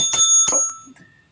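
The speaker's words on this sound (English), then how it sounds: "he's been practicing the bell" A bicycle bell rings twice in quick succession, bright and close, each ring leaving a short metallic shimmer before it fades to quiet.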